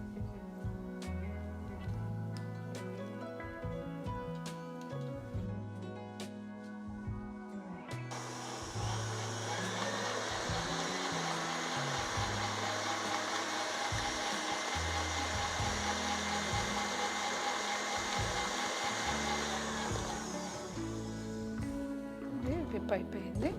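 Electric hand mixer whipping cream tinted with light pink liquid colour, a loud steady motor whir that starts after several seconds and runs continuously, with someone talking over it.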